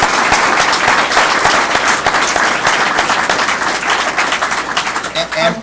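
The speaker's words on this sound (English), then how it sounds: "certainly a warm round of applause for our wonderful panel" Loud, close applause from a lecture audience for a panel, many hands clapping rapidly and continuously with a few voices mixed in, easing slightly at the end.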